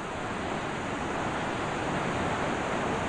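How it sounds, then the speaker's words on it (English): Huka Falls in New Zealand, a huge volume of water rushing through, makes a loud, unbroken roar like dense broadband noise, steady and close with no other sounds. "That's the bottom end of the falls where this colossal amount of water is coming through."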